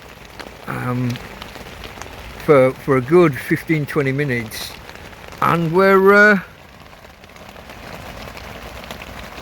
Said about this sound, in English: it must have been raining for an hour now, and it's been getting heavier and heavier